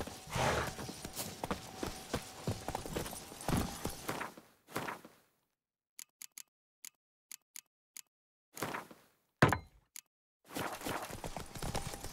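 Hooves clip-clop on the ground while a horse is ridden in the video game The Witcher 3, a loud stretch of hoofbeats followed by a quiet gap with sparse isolated ticks, then louder hooves resume.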